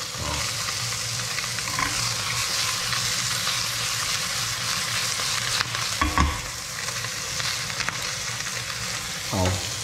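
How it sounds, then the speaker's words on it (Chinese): A fish fillet dry-fried in a pan with nothing but salt gives a steady, close sizzle throughout, with occasional louder spatters and stirring scrapes. "就只有抹盐干煎而已，什么都没有加"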